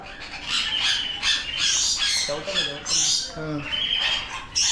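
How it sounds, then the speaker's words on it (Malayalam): Birds squawk and chatter in a busy, overlapping flurry of shrill calls, with a few lower honking notes mixed in partway through. "നമ്മുടെ താഴെയൊക്കെ ഉണ്ട് കേട്ടോ കിളികളൊക്കെ വന്ന്"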